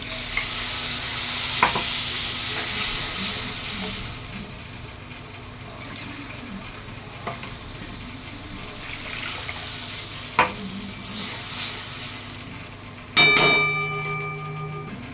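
Rinse water from a mixer jar splashes into a pan of frying pomfret fish in mustard-poppy gravy, with steady sizzling and stirring throughout and a sharp loud hiss as the liquid hits the hot pan near the end.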